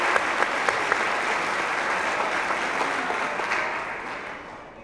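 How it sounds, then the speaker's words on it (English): Sustained applause from an audience at a collegiate athletics awards night honouring conference athletes, a steady dense wash of clapping that holds loud throughout and tapers slightly at the end. "Let's give these athletes a round of applause"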